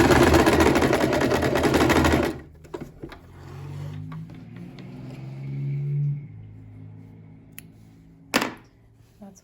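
A sewing machine runs a shirt seam at 5/8 seam allowance in a loud, dense burst for about two seconds, then stops, leaving fabric handling, soft thumps and a brief sharp click.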